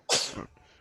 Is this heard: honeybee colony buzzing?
no